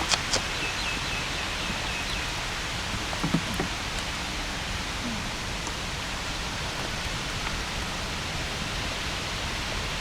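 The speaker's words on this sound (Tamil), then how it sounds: "மழை பெய்யுறது என்னால் ஃபீல் பண்ண முடியுது." Rain falling on a large banyan tree overhead, a dense, even hiss of drops that stays steady for the whole stretch, with a few faint taps early on and no talk.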